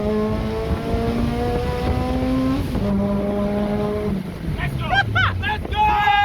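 A supercharged 9th-generation Honda Civic Si accelerates hard, its engine note climbing through the revs with audible gear shifts and a whining rise, captured from inside with wind buffeting and excited voices shouting near the end.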